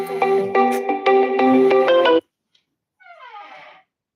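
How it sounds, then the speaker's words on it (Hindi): A phone's melodic ringtone plays a repeated bright tune for about two seconds, loud and close, then stops; after a short silence a fainter, fluttering electronic chirp follows in a home setting. "फ़ोन आ रहा है, बात कर लो जी"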